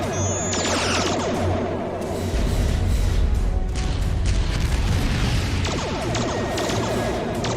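Sustained starship battle in a Romulan War fan film: loud, dense booming weapons fire and rolling explosions fill the whole stretch, with repeated heavy blasts and crashes and no talking.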